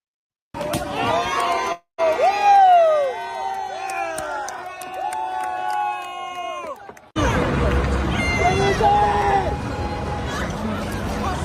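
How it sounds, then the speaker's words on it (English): A street crowd cheers and shouts during the LA riots, with excited whoops and yelling, then a noisier stretch of babble and rumble that stays loud and close. "People are cheering."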